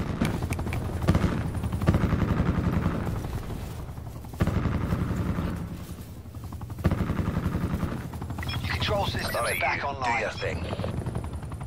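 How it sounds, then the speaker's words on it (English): An attack chopper arrives in a military shooter video game: a loud, steady rotor thump and engine roar under radio voices, with gunfire crackling through it near the end. "Crash requesting attack chopper deployment."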